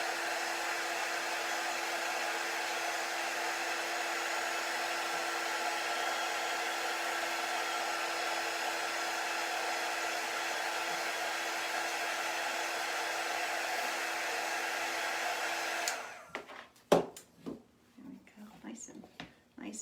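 Heat tool blowing to soften wax in a cold room, a steady close whooshing drone running unbroken for about sixteen seconds before cutting off, followed by faint handling noises and soft speech.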